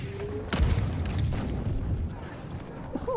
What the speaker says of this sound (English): And grenades everywhere.